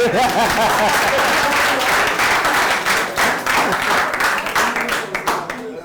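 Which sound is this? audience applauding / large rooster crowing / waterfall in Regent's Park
audience applauding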